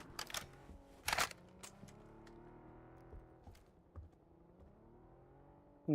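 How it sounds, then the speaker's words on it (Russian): A UAZ vehicle engine starting and revving in PUBG, a faint low rumble with a couple of sharper bursts near the start, then a steady quiet engine hum. "И УАЗик заводится даже"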